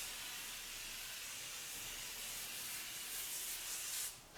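A continuous aerosol hissing spray lasting several seconds at a steady level, cutting off abruptly at the end, while working on a Mercedes 300D turbo diesel.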